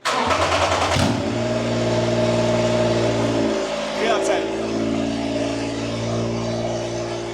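F3 racing car engines being started in a garage at Spa, running with a loud, steady mid-pitched drone, a brief burst of revving near the start, a second rise around four seconds, and a voice talking over the noise.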